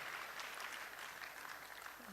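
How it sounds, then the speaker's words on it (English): Audience applauding at a medical college induction ceremony, a steady wash of clapping heard from a distance, faint and brief. "Please, a round of applause again for them."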